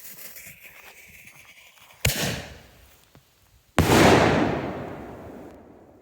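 A canister shell firework fires outdoors with a sharp launch thump, then bursts loudly about two seconds later, and the crackling boom trails off into a fading rumble.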